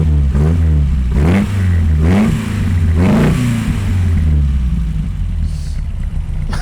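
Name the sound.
Porsche 911 Turbo engine revving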